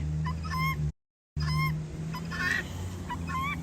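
Chickens and guinea fowl call in a farmyard on a rainy day, with repeated honking, squawking cries over a steady low background rumble, briefly cut by a gap of silence.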